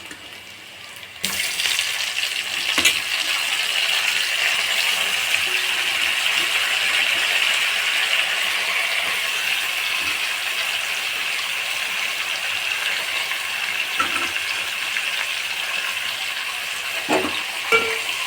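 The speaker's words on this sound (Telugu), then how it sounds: "టమాటా ముక్కలు వేసిన తర్వాత కొంచెం కలుపుకోవాలి" Dried fish fries in a pan as tomato pieces drop in, followed by a sudden loud steady sizzle and hiss that continues with faint stirring scrapes. A couple of knocks come near the end, and no one speaks.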